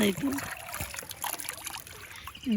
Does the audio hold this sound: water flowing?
yes